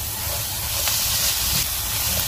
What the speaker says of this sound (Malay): Kita goreng dia sekejap.